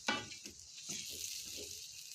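Chicken simmers in a pot for biryani, a soft, steady sizzle and hiss with a few faint scraping stirs, low and close.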